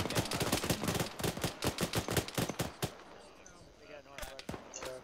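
Rapid bursts of gunfire from the military shooter ArmA crack in a dense, irregular string for nearly three seconds, then thin out into scattered distant shots over quieter ambience, with voices talking in between.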